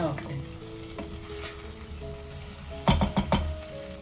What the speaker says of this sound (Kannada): ಇದನ್ನು ಕೂಡ ಒಂದು ಸ್ವಲ್ಪ ಎಣ್ಣೆಯಲ್ಲಿ ಚೆನ್ನಾಗಿ ಆಡಿಸ್ಕೊಳ್ಳೋಣ ಫ್ಲೇಮನ್ನು ಮೀಡಿಯಂ ಫ್ಲೇಮಲ್ಲಿನೇ ಇಟ್ಕೊಳ್ಳೋಣ